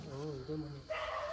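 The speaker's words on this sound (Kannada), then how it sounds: "ನಾಯಿಗಳು ಬೇರೆ ಬೊಗಳ್ತಾ ಇದೆ ಅಣ್ಣ ಇಲ್ಲಿಗೆ ಬಂದಿದ ತಕ್ಷಣ" A dog yelps and barks in short whining bursts, close by, followed by a higher sustained whine.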